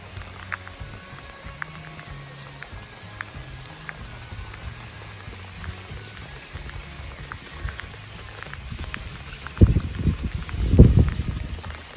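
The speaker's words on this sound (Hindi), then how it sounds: "बारिश हो रही है यहाँ पर।" Rain falling at Bid Borgaon reservoir near Nagpur, a faint steady patter mixed with wind, ending in a couple of louder gusty buffets toward the close, with no one speaking.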